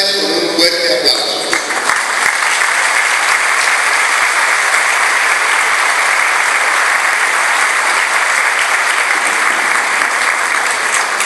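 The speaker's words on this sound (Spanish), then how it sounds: "Vamos a recibir al padre Amando González con un fuerte aplauso." Sustained applause from a conference audience welcoming a priest to the stage for a talk on the Second Vatican Council, a steady dense wash of clapping for the whole stretch, louder and busier at the start.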